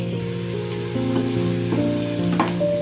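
Paneer roasting in ghee in a pan, a steady close sizzle with occasional scraping stirs, no voices.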